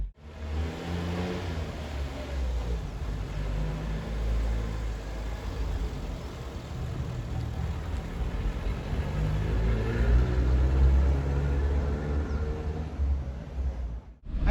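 A Ford Corcel II from a limited special series driving along, steady low engine rumble and road noise from inside the car, with a slight rise in revving toward the end.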